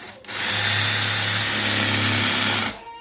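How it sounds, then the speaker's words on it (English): A jigsaw cuts open a pumpkin, buzzing loudly and steadily for over two seconds at close range, starting and stopping abruptly with no talk. "I'm going to try the jigsaw"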